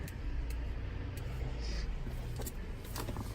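A 2017 Ford F-250 Lariat FX4 pickup truck idles with a steady low engine rumble, moderately loud and continuous, with a few faint clicks and knocks over the top.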